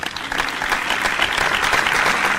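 A concert audience at a ghazal performance applauds with dense, sustained clapping that fills the room and stays loud throughout.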